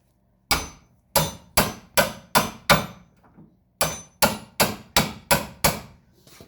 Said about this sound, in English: you're hitting it with the hammer